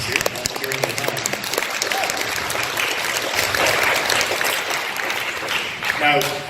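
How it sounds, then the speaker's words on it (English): Audience applause for panelists at a Mensa-sponsored convention event, a dense, moderately loud crowd of clapping that holds steady for several seconds, with a few voices faintly mixed in. "I would like you to give a nice round of applause for our panelists here"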